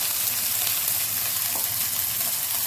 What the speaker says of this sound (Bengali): এবার হালকা করে উল্টে পাল্টে বেগুনটা একেবারে বেশ লাল লাল করে ভাজা ভাজা করে নিতে হবে